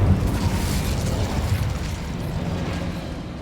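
A fire spell cast in the Hogwarts Legacy video game on Xbox Series X sets off a loud, rumbling blast with a dense low boom that holds steady and tapers slightly over a few seconds.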